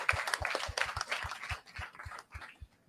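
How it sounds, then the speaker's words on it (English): Audience applause for a panel speaker at a crypto dinner fireside chat: light scattered clapping from a small group with a regular low thumping beat underneath, fading out toward the end. "Can we give him all a round of applause?"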